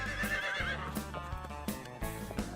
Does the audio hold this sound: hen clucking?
no